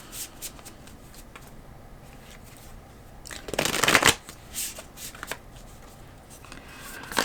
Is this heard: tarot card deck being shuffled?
yes